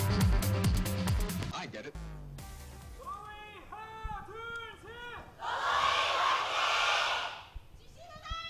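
A live esports crowd at an Overwatch Apex Season 4 match between Runaway and GC Busan breaks into a loud rhythmic chant, then swells into a broad roar of cheering, with a caster talking at the start.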